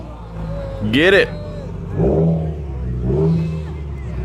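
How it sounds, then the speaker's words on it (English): An all-wheel-drive Subaru WRX revs hard in a rising, wavering engine sweep while drifting, followed by two shorter engine surges, with people calling out over it. "We have a all-wheel drive drift."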